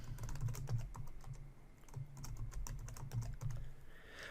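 Quiet, close computer keyboard typing as a password is entered, a rapid patter of key clicks that slows briefly in the middle and then resumes, with no one speaking.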